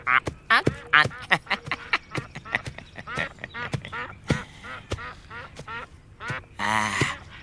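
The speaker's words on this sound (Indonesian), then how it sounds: "Nini Mesin, saya bawakan burung meliwis sama jamur barat." Meliwis whistling ducks quacking in a rapid, loud, close chorus of repeated calls, overlapping one another with short gaps, rising into a busier burst near the end.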